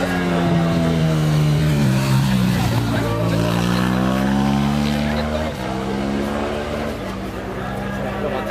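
Race car on a hill climb course, a loud engine rising and falling through gear changes as it climbs, with a brief dip before revving on, under a commentator talking.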